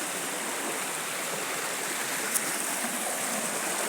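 The Hope River flows steadily outdoors, an even broadband rush of water with no breaks, fairly loud and close, with no voices.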